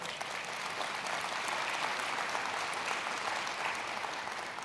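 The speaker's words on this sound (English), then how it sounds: "Every day, give yourself applause." Conference audience at a national school boards gathering breaks into steady, dense applause, a continuous wash of many hands clapping at even loudness throughout.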